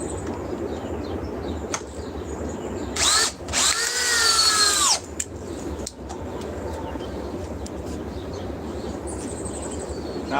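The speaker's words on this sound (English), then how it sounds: "Like I say, this is a hammer drill." A hammer drill runs in a loud, steady burst of about two seconds near the middle, starting and stopping abruptly, with quieter workshop background before and after.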